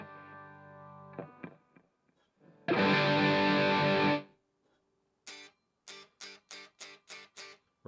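Electric guitar runs through a Headrush pedalboard with the volume block placed after reverb and delay: a ringing note fades, a loud distorted chord blares for over a second, then a string of short, choppy chords cuts off abruptly.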